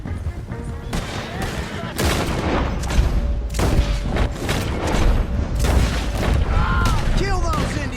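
Heavy gunfire rings out in Red Dead Redemption 2, with repeated loud shots and cracks layered over a dense rumble. Voices shout over the shooting.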